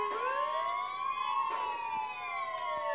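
Police car sirens in the video game Mafia 2, several overlapping wailing tones sweeping up and down together, loud and continuous with no talking.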